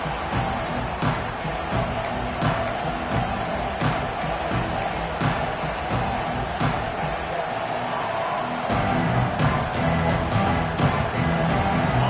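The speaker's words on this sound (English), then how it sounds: "This place is roaring" Dense stadium crowd roaring continuously at a Clemson vs NC State college football game, a loud sustained wash of voices with scattered sharper shouts and claps throughout, swelling slightly near the end.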